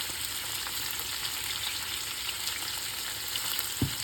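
Sliced onions sauté with salt in a pan for a mixed seafood curry, giving a steady, even frying hiss with a faint stir or tap near the end and no talking.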